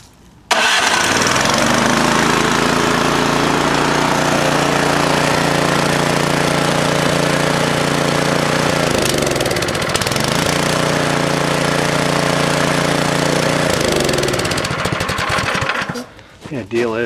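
A Craftsman snowblower engine runs on its choke, a loud steady mechanical drone with a slight pitch wobble near the middle, cutting out at the very end.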